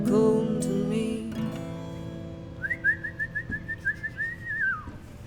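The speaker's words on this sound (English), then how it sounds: "That was the best whistle break ever." A solo whistled break within a song: a steady high whistled line with a quick trill-like warble, rising then gliding down at the end, close and clear after a sung passage fades out.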